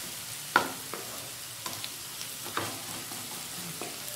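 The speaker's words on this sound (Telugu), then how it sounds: "సిమ్లో పెట్టి వేయించుకోవాలండి" Chicken frying in oil on a low flame gives a quiet, steady sizzle with a few soft clicks and spatters, one sharper knock near the start.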